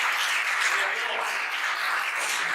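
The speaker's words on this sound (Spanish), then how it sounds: "el Señor se merece un fuerte aplauso en esta tarde" Steady applause from a church congregation during a service, dense and continuous, filling the whole moment without a break.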